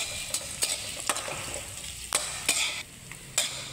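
Garlic and red chili frying in a pan, a steady sizzle broken by regular scraping strokes of a spatula stirring, close and alone.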